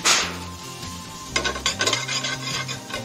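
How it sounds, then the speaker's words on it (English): Butter sizzling in a pan as minced garlic goes in, a soft frying hiss that swells into louder crackling and stirring scrapes midway, close and steady with no voices. "首先落咗牛油先，牛油用紧嘅同时咧，我哋就会落蒜蓉"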